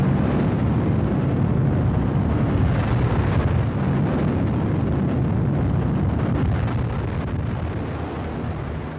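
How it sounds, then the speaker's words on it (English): Megaton nuclear bomb explosion high above Earth, heard as a long, dense, roaring rumble that holds steady and heavy throughout before easing slightly at the end. "the exploding of a megaton nuclear bomb 248 miles above Earth"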